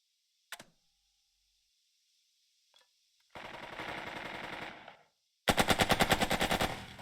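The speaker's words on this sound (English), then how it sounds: "Sounds like a machine gun to me." Machine gun fire in the World War II strategy game Burden of Command: a faint click and tick, then two loud sustained automatic bursts, the second louder and sharper, with no talking.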